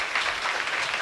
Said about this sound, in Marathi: जोरदार त्यांच्यासाठी सुद्धा टाळ्या.